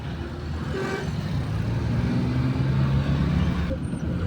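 Car driving along a ghat road near Yavatmal, a continuous low engine and road rumble heard from inside, with faint passing traffic and a brief horn-like tone.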